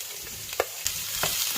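Potatoes and chopped onion frying in a pan, a steady close sizzle broken by two or three sharp scrapes of stirring.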